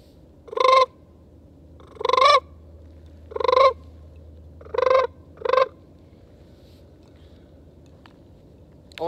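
A person blows a goose call to imitate a sandhill crane, producing five loud, rolling honks at uneven intervals over a quiet background.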